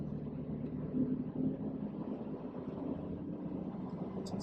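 A Jeep Wrangler TJ cruising on the freeway, heard as a steady low engine drone with road and wind rumble throughout, fairly quiet and without talking.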